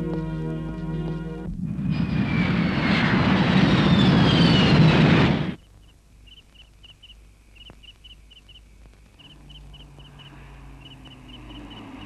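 An airplane roars loudly overhead for a few seconds, then the engine noise cuts off abruptly, leaving quiet background with faint chirps and soft music-like tones.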